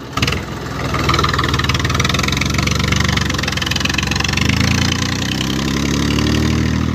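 A tractor engine runs loud and close, revving steadily and climbing through its gears, a dense throbbing drone that shifts pitch partway through and keeps going with no talk.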